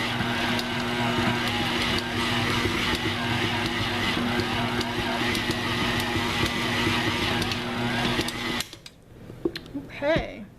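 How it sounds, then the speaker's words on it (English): An electric mixer on its lowest setting blends oatmeal raisin cookie dough, its motor whirring steadily and straining for about eight seconds before it stops, after which a voice speaks. "It's going to struggle a little bit because it's blending everything together"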